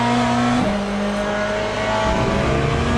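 A hypercar in a racing video game roars close and loud, its engine tone steady and droning with a gear change early on, running continuously throughout.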